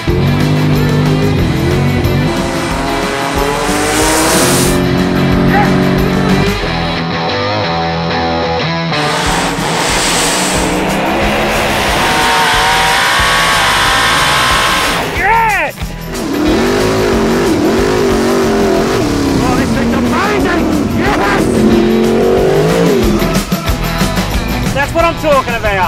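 An old truck accelerates hard, its loud engine roaring and rising in pitch with sharp bursts of tire squeal, filling the whole clip at close range.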